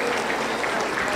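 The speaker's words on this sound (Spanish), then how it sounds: "Aplauso para el Señor." A church congregation at a Pentecostal service in Huancayo breaks into dense, steady applause that stays loud and unbroken from start to finish.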